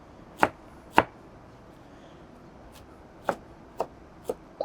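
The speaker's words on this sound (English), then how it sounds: "So then just chop it up fine." Vegetable leaves are chopped fine with a knife on a cutting board: six sharp, separate knife strikes close by, two quick ones, a pause, then four more, over a quiet background with no talk.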